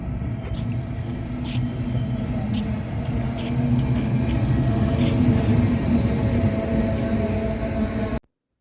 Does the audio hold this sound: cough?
no